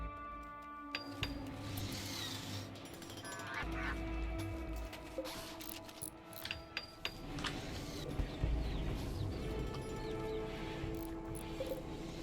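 Chickens cluck and squawk in the RimWorld colony game, a dense stretch of bird calls mixed with other game sounds and no talking.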